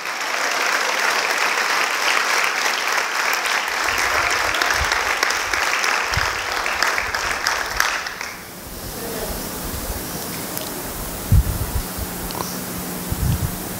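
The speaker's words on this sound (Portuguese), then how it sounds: "Se vai aplaudir, aplaude para valer." A church congregation applauds loudly and densely for about eight seconds before the clapping cuts off, leaving a quiet room with faint scattered sounds.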